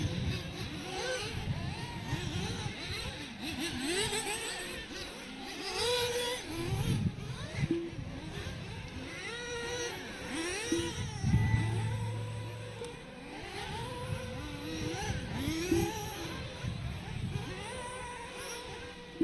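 RC cars racing around a track at a Halloween club event, their electric motors whining and revving steadily for the whole stretch as several cars sweep past in overlapping waves of pitch, with faint talk underneath.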